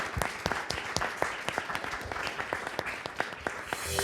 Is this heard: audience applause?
yes